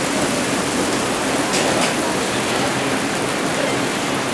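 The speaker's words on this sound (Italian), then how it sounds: "Piove, attenzione." Steady rain falling outdoors backstage at an open-air rock festival in a park, a dense continuous hiss of drops on surfaces with no talk.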